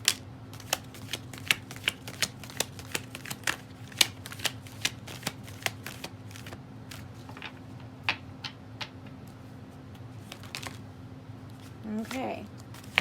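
Tarot cards being shuffled by hand, quick sharp riffling snaps in an irregular stream, close and crisp over a low steady hum, with a brief rustle near the end.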